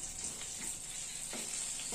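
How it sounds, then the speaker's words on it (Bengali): Tender neem leaves fry in oil with a soft, steady sizzle, dotted with faint clicks and scrapes of stirring. "তো দিয়ে দিলাম নিম পাতা গুলো তেলে"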